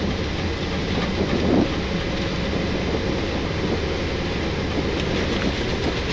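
Airbus A330-200 reverse thrust and braking during the landing rollout, heard from inside the cockpit as a loud, steady broadband roar and rumble that holds evenly throughout, with no talk.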